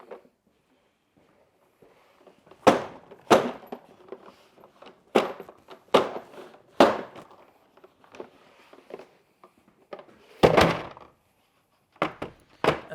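A Silverline tool set case is banged about roughly, as if tossed into the back of a van, giving a series of sharp, loud hollow thumps and knocks at irregular intervals with rattling contents and quieter handling noises between.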